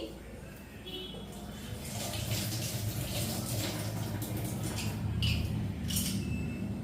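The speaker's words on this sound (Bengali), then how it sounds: "রসুনটা আগে ধুয়ে নিচ্ছি" Tap water runs steadily into a sink as whole garlic is washed, a close hiss with faint splashes and clinks that grows slightly louder midway.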